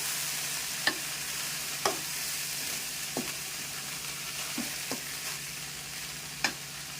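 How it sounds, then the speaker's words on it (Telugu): A pan of black-eyed peas in a tempering sizzles softly and steadily while a spoon stirs, with a few sharp scrapes and taps against the metal at uneven intervals. "ఇప్పుడు అలసందలు వేసేద్దాం ఇందులో. కొంచెం అంతా కలిపేద్దాము."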